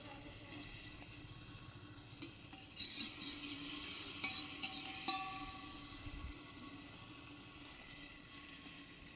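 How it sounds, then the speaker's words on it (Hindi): Doodhpitthi roasting lightly in ghee or oil in a pan, a soft steady sizzle with scattered stirring scrapes and clinks, close and low in level, no talking. "चलो अब इसको थोड़ा थोड़ा करके बहुत हल्का सा ही भूनना है"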